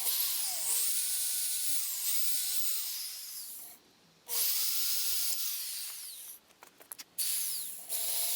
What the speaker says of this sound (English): And the second drill bit takes it to size.